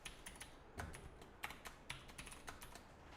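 Rapid, uneven typing on a broken computer keyboard, a quiet string of sharp key clicks and a few heavier taps with no talking.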